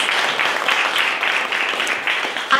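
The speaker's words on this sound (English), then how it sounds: "Let's give her a round of applause." Applause from an audience at a Vida Therapy celebration event honoring a graduate, a dense steady wash of clapping filling the whole moment at even loudness.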